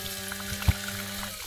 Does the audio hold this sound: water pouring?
yes